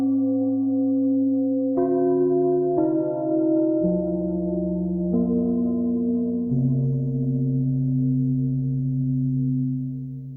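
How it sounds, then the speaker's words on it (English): Bell-like metallic tones from a struck pumping station wheel ring out in sequence, each sustained and slowly decaying as the pitch steps between notes, hollow and resonant, with no voices. "so good sort of haunting bellish tones for your horror soundtrack"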